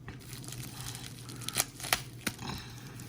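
Bubble tape packaging around a graded trading card crinkles softly with a few sharp tearing rips, close to the listener over a faint steady hum.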